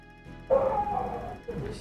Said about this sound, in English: Stupid dog. He's been barking a lot lately.